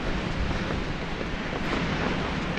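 Strong, steady wind buffeting the microphone on a mountain ridge trail in Poland's Beskid Sądecki, a continuous roaring rush with no pauses.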